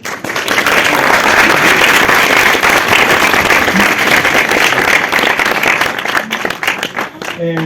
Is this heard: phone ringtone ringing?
no